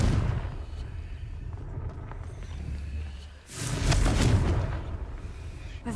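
Booming fire-spell blast from the Hogwarts Legacy video game, a loud rumbling burst that swells around the midpoint over a constant low ambient hum, with no voices.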